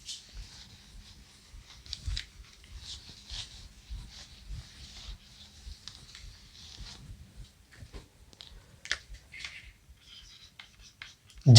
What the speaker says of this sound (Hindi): अब खानों के नाम लिखेंगे।